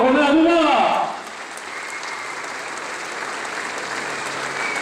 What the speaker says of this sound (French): on peut applaudir bien fort Romain Amouma.